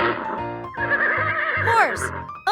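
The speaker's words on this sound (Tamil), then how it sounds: "Horse." A domestic horse neighs loudly and close up, a long whinny with a falling, shaky pitch, followed by a snort near the end.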